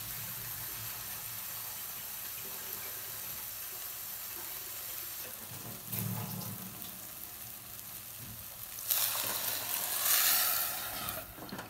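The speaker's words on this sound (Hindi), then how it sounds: "अपन इसमें दाल ज़्यादा पानी डालेंगे" Water is poured into dhaba-style dal cooking in a pot, a low simmering hiss followed by a louder rushing splash near the end, with no talking.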